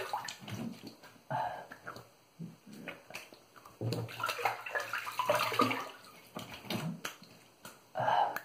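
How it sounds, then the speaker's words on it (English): Tap water running and splashing as a face is rinsed after a wet shave, close and fairly faint, coming in uneven bursts with small splashes and pauses. "Let me rinse off and see how it went."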